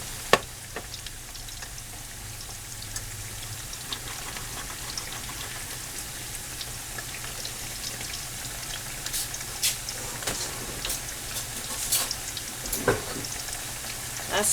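Canned French fries sizzle steadily in a frying pan with a dense, rain-like crackle. Occasional louder pops and spatters rise above it, and it carries on close and unbroken with no talking.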